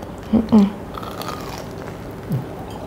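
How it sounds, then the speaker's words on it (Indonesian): Crunchy toasted white bread with beef and yellow cheese is bitten and chewed close up, giving two sharp crunches early on and a softer crunch near the end. "Renyah ya, renyah banget yang luarnya."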